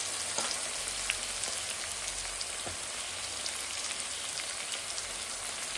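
Onion, garlic and ginger fry in hot oil with turmeric powder for a pork fry, a steady close crackling sizzle with scattered pops and no talking.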